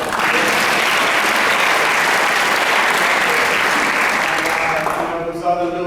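A crowd applauds loudly and steadily at a Hot Doug's movie screening event, the dense clapping holding for about five seconds before thinning out, with voices briefly emerging as it fades.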